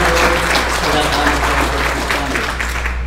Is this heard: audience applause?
yes